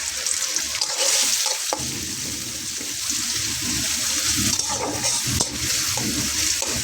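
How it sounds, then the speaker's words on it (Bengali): Chopped onion fries lightly in oil in a pan, producing a loud, steady, dense sizzle that runs throughout, broken by a few brief stirring scrapes. "পেঁয়াজটাকে আমি একটু হালকা ভেজে নেব, যাতে করে কাঁচা পেঁয়াজের গন্ধটা না থাকে"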